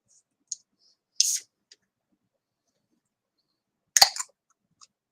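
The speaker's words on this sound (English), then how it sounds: "Here we popping the top again." A drink's top is popped open twice, each a sharp pop followed by a brief hissy burst, separated by near silence with a few faint small clicks in between.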